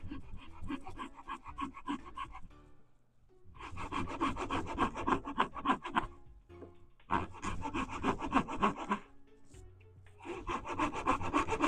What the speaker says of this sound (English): Alright, we're going to take a saw to it